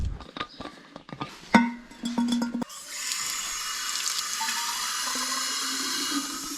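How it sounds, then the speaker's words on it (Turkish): Water runs steadily from a fountain in a quiet village mosque garden, a continuous close splashing stream that begins after a few scattered knocks and handling sounds. "Bu caminin bahçesinde çeşme vardı hatırlıyorum ama."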